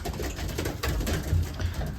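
Racing pigeons coo softly in a loft after feeding, a low steady murmur of several birds close by with rustling underneath and no talk.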